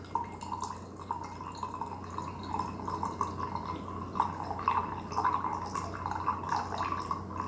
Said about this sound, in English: Definitely taking a long time to drain.